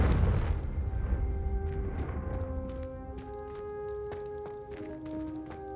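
A Confringo blasting spell explodes in the Hogwarts Legacy video game with a loud, deep boom, its rumble slowly fading as scattered chiming and tinkling magical effects ring out afterward.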